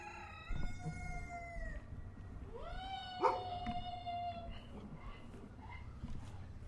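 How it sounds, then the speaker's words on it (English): A rooster crows several times, drawn-out calls rising and falling at moderate distance, one crow overlapping another bird's call, over faint background noise with no talking. "The crowing of a rooster awoke Lennie Gray the following morning."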